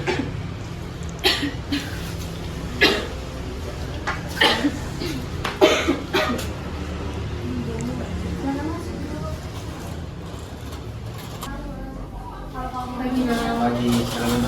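Several harsh, wet coughs come in irregular bursts, as a patient with a worsening cough tries to bring up phlegm during a doctor's examination. The coughing is close and clear over a steady low background hum.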